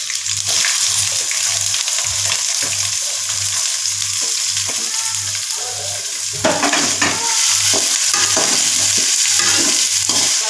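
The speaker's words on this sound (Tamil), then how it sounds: "நல்லா டீப் ஃப்ரை ஆன உடனே ஆனியன் போட்டுக்கலாம்." Onions frying in hot oil with ginger garlic paste, curry leaves and chilli give a loud, steady sizzle from start to finish, with the scrape and rustle of stirring mixed in.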